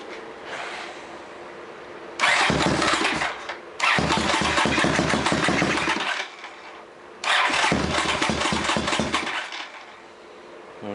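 Honda CX 500 motorcycle engine with the choke on and a weak battery cranks and tries to start in three long, loud, close bursts of grinding, sputtering turnover separated by pauses.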